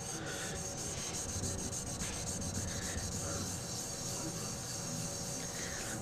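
Motorcycle clutch plates from an XL125 are flat sanded by hand, giving a steady, close, continuous gritty rubbing with quick repeated strokes.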